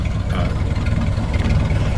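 A 1931 Ford Model A engine in a huckster delivery wagon idling steadily, a low rumbling chug with an even pulse, close and continuous.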